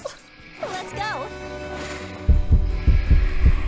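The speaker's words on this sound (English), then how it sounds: "the heartbeat has killed me" Heartbeat sound effect in the video game Monster Prom: after a soft hum and swooping synth tones, a loud, deep, steady thumping pulse starts up, beating about twice a second.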